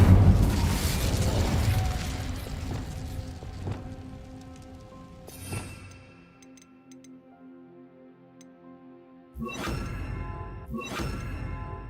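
Incendio fire spell cast in Hogwarts Legacy: a loud crackling, roaring burst that fades into lingering ringing tones, then two sharp flaring bursts near the end, with no talking.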